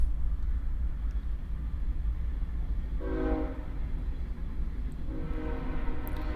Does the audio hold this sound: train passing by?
yes